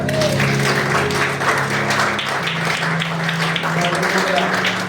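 Church congregation applauding steadily throughout, a dense continuous wash of clapping with a musical drone and voices mixed underneath.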